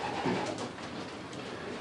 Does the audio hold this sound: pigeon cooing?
yes